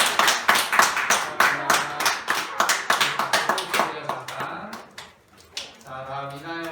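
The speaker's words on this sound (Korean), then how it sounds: "박수하시겠습니다" A church congregation claps in an even rhythmic beat during a New Year's service award presentation for children, the applause close and lively before fading as a voice speaks.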